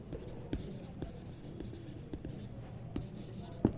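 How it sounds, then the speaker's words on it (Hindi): Marker or chalk writing on a board during a Hindi-language political science lesson, a steady scratchy stroking with sharp taps at irregular intervals, close and moderately faint. "यहाँ पे लिखते हैं"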